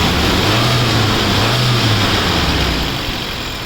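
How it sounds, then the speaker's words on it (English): A 2008 Maruti Gypsy King engine idles steadily and smoothly, a close, continuous low rumble with no talk over it, easing slightly quieter near the end. "You can just have a look at the engine sound."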